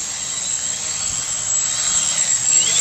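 A quadcopter motor from a Hoverfly demonstration spins with a high, steady whine over a rushing airy hiss, rising slightly in loudness toward the end, close and without talk.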